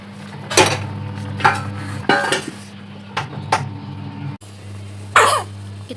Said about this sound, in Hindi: इतना खांस रही है यार बच्ची